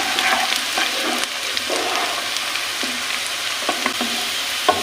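Boneless chicken cubes frying with onions in a pan for a chicken and lauki curry, a steady close sizzle with repeated scrapes and clacks of a spatula stirring throughout, no voices.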